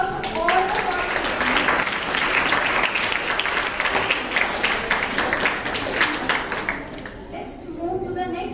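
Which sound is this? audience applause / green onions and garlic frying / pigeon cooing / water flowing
audience applause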